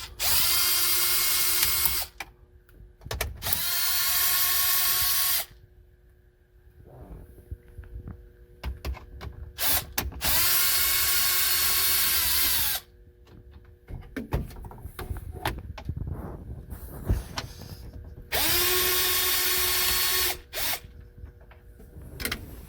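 A power tool whirs in several separate bursts as it backs out 7mm bolts during a car stereo installation, each run a steady high-pitched drone of a few seconds, with quieter clicks and handling noise between runs.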